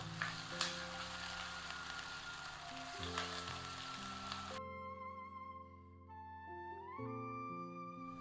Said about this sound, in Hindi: लहसुन अदरक को भी फ्राई करेंगे प्याज के साथ